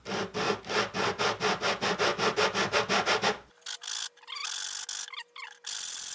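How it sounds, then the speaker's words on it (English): Rough sandpaper rubbed over a wooden acoustic guitar bridge, a run of fast rhythmic back-and-forth rasping strokes up close, followed by quieter scraping and handling sounds. "So I'm gonna go ahead and start with this rougher sandpaper."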